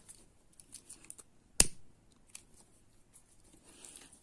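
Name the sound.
cutting craft material with scissors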